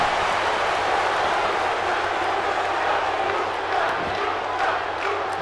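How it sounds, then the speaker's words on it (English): A dense arena crowd in a WWE 2K18 Royal Rumble wrestling match roars continuously, a steady loud wash of cheering and shouting with no break. "With the crowd trying to cheer Lucha in favor of Kalisto"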